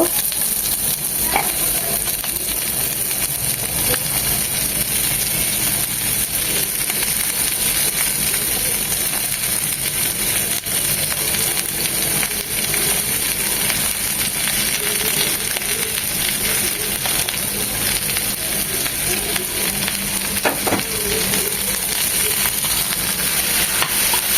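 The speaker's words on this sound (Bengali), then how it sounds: "পেঁয়াজ রসুনটা ভাজা ভাজা হয়ে গিয়েছে" Onions and garlic fry in a little oil left in the pan after frying taki fish, giving an unbroken close sizzle that holds steady for the whole stretch with no talk.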